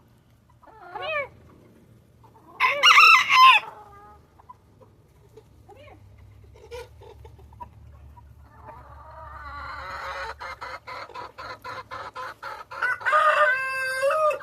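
A young rooster gives short hoarse cries and a burst of rapid clucking near a chicken coop, separated by quiet stretches, with a person briefly speaking nearby.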